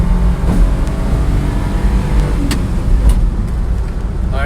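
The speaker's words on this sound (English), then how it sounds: "we're in 4th gear, going uphill, and we're climbing speed" A Daihatsu 4x4 dump-bed Japanese mini truck's small engine drones steadily in 4th gear as it climbs a steep hill, loud and close throughout with a constant low hum and road noise.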